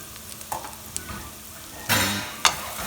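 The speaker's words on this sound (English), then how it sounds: "Now I'm gonna add my bacon," Bacon goes into a pan with Brussels sprouts, a few quiet stirring scrapes and then two short, brighter bursts of sizzle close by, with no talking.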